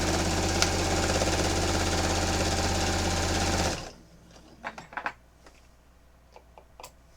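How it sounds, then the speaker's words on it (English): A sewing machine stitches fabric along a chalk line with a fast, loud, steady mechanical chatter for about four seconds, then stops abruptly, leaving a few faint handling clicks and taps. "I'm going to sew directly along the chalk line"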